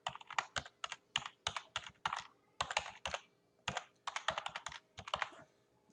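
Fingers type text on a computer keyboard in quick, uneven bursts of close, soft clicking, with brief pauses between runs of keystrokes and no talking.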